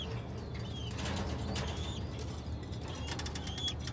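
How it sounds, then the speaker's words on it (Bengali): A Lahori pigeon flapping its wings in several short, soft bursts, heard faintly against a quiet background with a few light chirps in between. "এটা লাহোরি কবুতর।"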